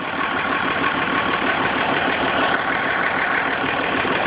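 A Perkins 6-354 turbo diesel engine idles steadily nearby, a continuous rough, knocking rumble with an even rhythm and no voices.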